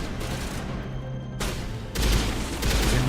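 Gunfire in Mass Effect Legendary Edition, loud bursts of shooting and a heavier booming volley that swells near the end over a dense battle din.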